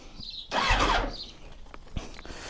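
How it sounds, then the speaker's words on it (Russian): A motorcycle engine is cranked over with a harsh whirring burst lasting about half a second, followed by fainter clicks and a short sharp knock against a quiet background. "Нужно прокрутить пару раз мотор."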